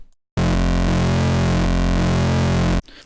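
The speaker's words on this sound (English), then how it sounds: "And you get that beating effect as the oscillators move in and out of sync." Serum reese bass built from detuned oscillators, a loud, dense, gritty sustained low tone lasting about two and a half seconds, with a slow wavering beating as the oscillators drift in and out of sync, then cutting off abruptly.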